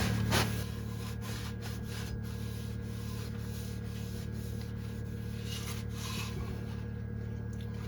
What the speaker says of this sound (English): Easy way to clean your window here is just to get a wet rag,